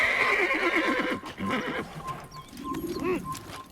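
A horse neighs in an Assassin's Creed video game, a loud whinny followed by snorts and a second shorter neigh, with hoof clip-clops and game sounds around it.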